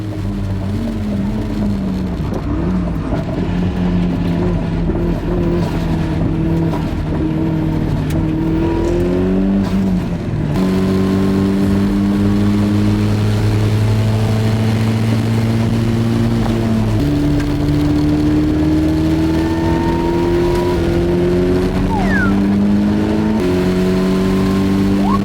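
Race car at full throttle on the Sepang circuit, heard from inside the cabin: a loud, continuous engine roar that climbs in pitch through each gear and drops sharply at the upshifts, with heavy vibration and no talk.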